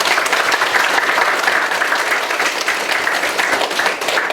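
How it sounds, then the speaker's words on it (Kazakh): A hall full of people applauds loudly and steadily for the whole stretch, a dense even wash of hand claps with no voices on top, at a school class celebration for the Nauryz holiday. "Гүлжазира апайымызға бір доғал шапалақ қойсаңыздар"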